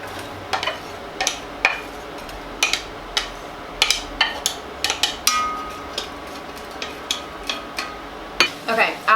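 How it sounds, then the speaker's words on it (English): Diced onions cooking in olive oil in a pan over medium heat, a soft sizzle under a string of irregular utensil clicks and scrapes against the pan, close and moderately loud. "adding in our diced onions, and we're going to cook that for about 10 minutes or until they become soft and translucent"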